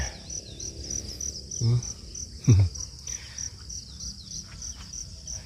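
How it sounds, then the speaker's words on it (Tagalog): Crickets chirp steadily in a high, continuous trill throughout a plowed field, with faint low rustles and distant sounds beneath. "Nakakarinig ka pa ng kuliglig."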